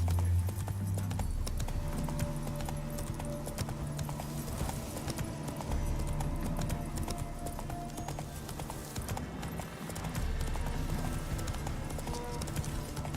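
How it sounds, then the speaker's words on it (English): Hooves of Geralt's horse clip-clop at a gallop in The Witcher 3, a steady rhythmic beat running throughout under game music, with a brief neigh. "Run, Roach"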